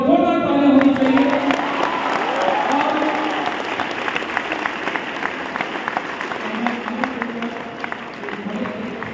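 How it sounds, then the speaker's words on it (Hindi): Loud, sustained audience applause from a college event crowd, dense clapping throughout with some voices mixed in. "जोरदार तालियां होनी चाहिए"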